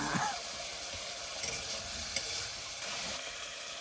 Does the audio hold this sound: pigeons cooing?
no